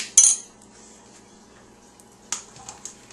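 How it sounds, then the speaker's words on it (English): A spoon clinks against a container, a sharp tap near the start followed by a couple of lighter knocks later, as plain yogurt is scooped into protein shake mix for a banana shake; no talking. "So I'm just actually going to put a couple scoops into the protein shake mix."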